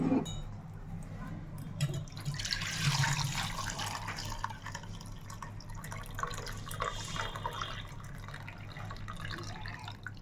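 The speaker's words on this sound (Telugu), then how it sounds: "ఇప్పుడు నీళ్ళు వేరేగా తీసేసుకుందాం మనం" Cooking water drained off boiled mutton trotters, an ongoing close splash and trickle of liquid with some drips that swells and settles over ten seconds, with no talking.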